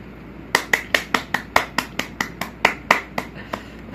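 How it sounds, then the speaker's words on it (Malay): Children in a music class clap for themselves in a steady, even rhythm: about sixteen sharp, close claps at a brisk tempo over a faint room hum. "Tapi mari kita beri tepukan paling kuat untuk diri sendiri."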